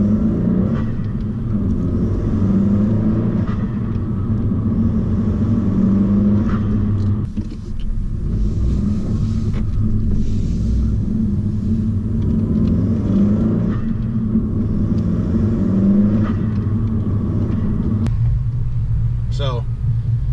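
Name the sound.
Honda Civic 1.5T turbo with aftermarket intake, engine sound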